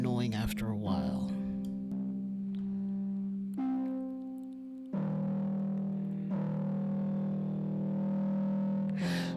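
An electric guitar played through a distortion effect holds sustained, buzzing chords and notes, shifting pitch every couple of seconds, loud and up close.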